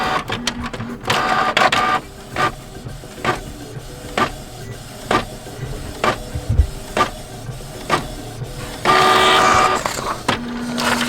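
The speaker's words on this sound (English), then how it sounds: "now my printer printing really very well and very clear" A Canon MG5700 inkjet printer runs alone after a printhead deep clean, its print head shuttling back and forth in a regular series of short whirring passes, ending with a longer feed.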